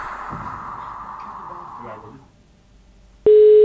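Muffled voices and background hum fade, then a loud, steady telephone ring tone starts abruptly near the end.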